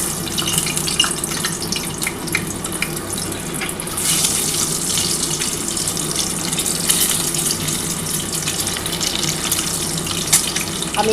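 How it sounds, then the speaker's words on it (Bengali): An egg frying gently in oil in a pan over low gas heat, giving a steady, even sizzle with a brighter crackling burst partway through. "এবার ডিমটা আমি হালকা করে ভেজে নিচ্ছি"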